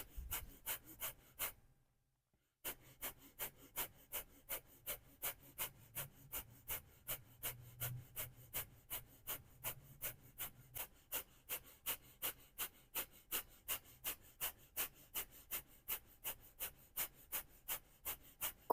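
Breath of fire, the rapid rhythmic breathing of Kundalini yoga: sharp, evenly spaced exhalations repeat at a fast, steady pace, broken once early by a short silent pause, then continue uninterrupted.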